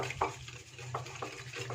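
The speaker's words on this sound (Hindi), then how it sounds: "मैं हैंड बीटर से इसे अच्छे से मिक्स कर रही हूँ।" Yogurt is whisked with a hand beater after salt and sugar are added, giving soft rhythmic scraping and slapping strokes repeated every half second or so, close up and fairly quiet.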